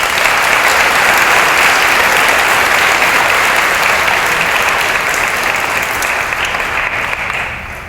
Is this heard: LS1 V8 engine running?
no